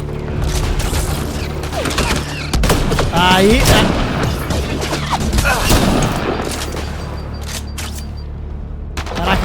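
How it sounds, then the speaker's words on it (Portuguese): Gunfire in the video game Mass Effect Andromeda, a loud run of rapid shots and mechanical clatter over several seconds, with a player's voice exclaiming briefly and game effects underneath. "Caraca, como é que eu errei aqueles tiros"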